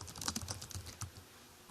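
Rapid typing on a computer keyboard while entering a report title, a dense run of quick clicks that fades toward the end, close and moderately quiet.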